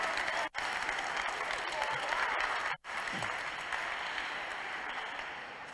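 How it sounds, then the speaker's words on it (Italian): A church congregation at Mass honouring Venerable Francesco Convertini claps in sustained, even applause, faint and distant, with two short dropouts and a gradual fade toward the end. "Facciamo sentire l'applauso."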